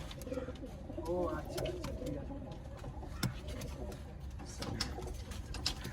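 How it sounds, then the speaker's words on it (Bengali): Pigeons kept for sale coo softly in the background, repeated low throaty calls under a busy noisy setting with scattered clicks and knocks; a voice talks faintly at times. "খুব সুন্দর পায়রা"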